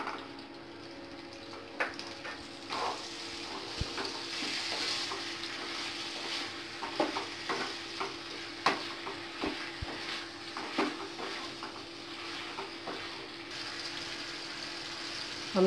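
Mango launji cooks in a pan over a low gas flame, giving a quiet, steady sizzle with scattered soft stirring scrapes and clicks, alone without talk.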